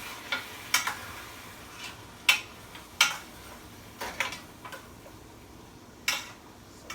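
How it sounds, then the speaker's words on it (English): Jamaican curry goat is stirred in a pot, with a spoon knocking and scraping against the metal in irregular taps over a soft background simmer. "So now I'm going to go ahead and I'm going to stir."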